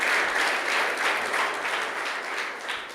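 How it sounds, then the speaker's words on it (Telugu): Students at a Warangal chat session applaud together, a dense, loud, continuous burst of clapping from a large crowd in a hall, gradually easing toward the end. "మీ వాడు క్లాప్స్ కొట్టండి."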